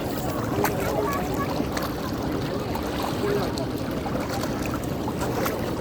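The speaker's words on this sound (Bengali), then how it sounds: "তো আমাদের দুইটা বোট লেগেছে, ওই যে পেছনে আমাদের আরেকটা বোট" A boat travels along the Jadukata River in the Tanguar Haor wetland of Sunamganj, with a steady low rumble and water wash that runs on continuously while a person talks over it.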